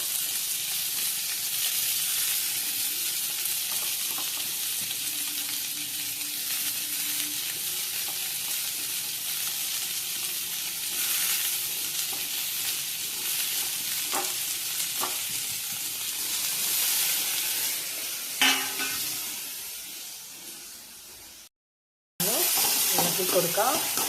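Egg bajji mixture fries and is stirred in a pan, giving a continuous, close hiss of sizzling oil with occasional scraping strokes, then a brief cut-out before the sizzle returns.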